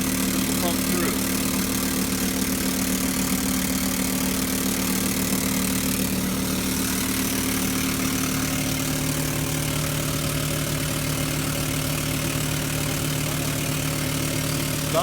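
Engine-driven pump running steadily while pumping pool deck coating through a laid-out hose, a continuous loud idling drone with no pauses, close by.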